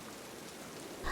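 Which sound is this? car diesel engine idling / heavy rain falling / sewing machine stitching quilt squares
heavy rain falling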